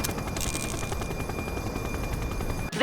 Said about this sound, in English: This is Bree Bookman in the ACTV Eye in the Sky, the #1 news chopper in Averno City